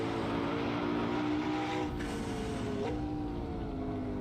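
A racing-spec McLaren in Assetto Corsa on a snowy track: a steady, droning engine note with tonal harmonics holds through the whole stretch, fairly quiet, shifting slightly in pitch as the car works for grip.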